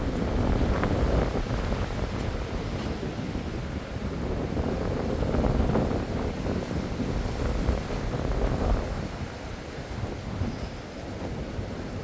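Strong wind on a mountain hiking trail roars and buffets the microphone in a continuous, loud, broadband rush that swells and eases slightly without letting up.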